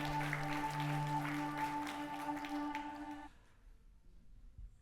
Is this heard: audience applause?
yes